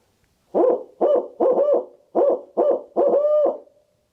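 A man imitates a barred owl's hoot call with his voice, six loud, close, rhythmic hooting notes in a who-cooks-for-you pattern, the last drawn out longer, alone in quiet surroundings.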